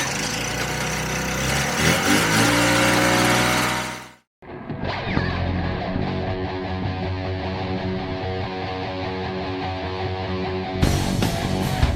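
A Polaris Indy snowmobile engine runs steadily and loudly at close range during a test ride, with one brief cutout near the middle before the drone resumes.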